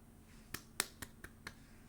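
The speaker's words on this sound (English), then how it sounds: "You get a clap." A few sharp, faint hand claps or snaps picked up by a computer microphone, five separate cracks spaced roughly a quarter second apart in a quiet room.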